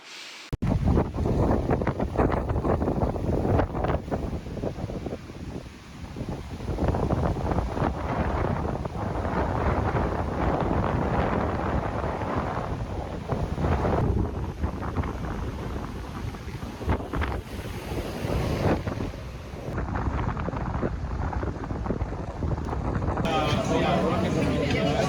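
Strong wind buffets the microphone outdoors by the water, a continuous loud roar and rumble throughout, with a voice talking over it.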